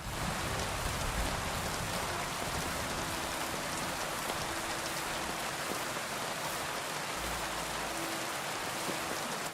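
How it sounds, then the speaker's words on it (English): Rain falling in Kingdom Come Deliverance II, a dense, continuous downpour hissing steadily on surfaces, loud and unbroken throughout. "I don't know how I feel about the overall rain."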